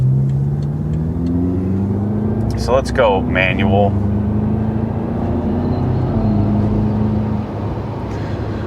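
A BMW F10 M5 sedan drives on a highway, its engine holding a steady, loud mid-range drone with rising tones as it pulls forward, while a voice speaks briefly over it.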